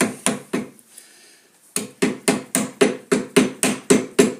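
A chisel chips oak while a Windsor chair is carved by hand: a few sharp knocks, a short quiet pause, then a steady, fairly loud run of evenly spaced strikes, about four per second, with no talking.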